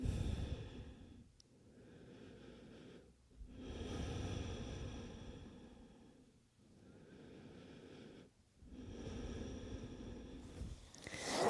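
Slow, calm breathing after a yoga child's pose: long, soft inhales and exhales alternate in a steady rhythm, close and quiet, with no talking.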